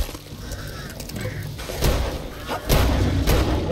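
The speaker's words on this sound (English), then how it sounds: "Don't alert the birds, please." Crows caw in the video game Back 4 Blood, several harsh calls scattered over a few seconds, mixed with heavy thumps and dull impacts from the game.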